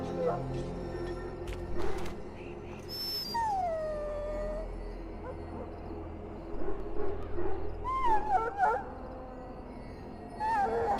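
A dog in the Dragon Age Origins video game whimpers and howls in rising, wavering whines, repeated several times over a low background murmur, with voices speaking at points.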